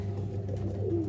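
Pigeons of a show collection coo softly in low, soft murmuring tones, steady throughout the short stretch, with no voices over them.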